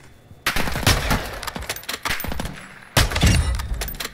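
Gunfire in the Call of Duty DMZ video game, with loud rapid bursts of automatic fire starting abruptly, a short lull, then another heavy burst, with no talking over it.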